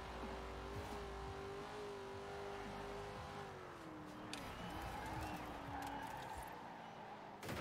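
A 1968 Pontiac Firebird in Forza Horizon 4 holds a steady engine drone through a tight corner, pitch sagging and wavering as it brakes and turns, with faint tire scrub and a quiet voice talking over it.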